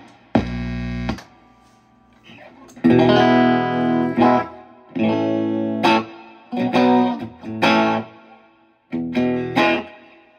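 Electric guitar plays a series of strummed chords and short phrases through a Fender '68 Vibro Champ Reverb tube amp with reverb turned up high, giving a reverberant tail and slight hum between the notes.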